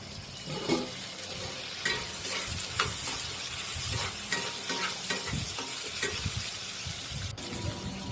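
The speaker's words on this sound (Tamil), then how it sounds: "நல்லா வதக்கிட்டு வெட்டி வச்சுருக்க குடமிளகாவையும் எடுத்து அதில் போட்டுக்கணும்." Onion and chopped capsicum sauté in a pan, a continuous sizzle with repeated scraping strokes of a spatula stirring throughout. The sound is close and steady, with no talking.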